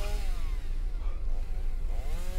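A chainsaw carried by an enemy chasing the player in the video game Escape the Backrooms buzzes steadily and loudly, its motor pitch rising and falling in sweeps over a continuous engine drone.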